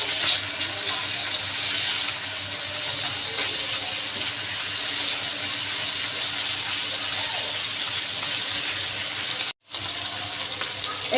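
Prawns frying in a pot for a spicy prawn curry, a steady broadband sizzle running unbroken for about ten seconds apart from one brief dropout near the end, close and moderately loud with no talk over it.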